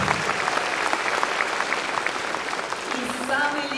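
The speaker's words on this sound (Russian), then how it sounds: "Танцу ваши аплодисменты!" Audience applause for a dance at a concert, a steady dense clapping from a large crowd that continues through without pause, with a faint tone and voice rising near the end.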